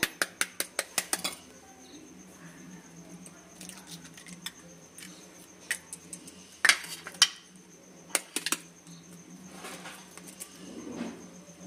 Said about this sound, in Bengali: ডিম দুটো আমি ফেটিয়ে নিচ্ছি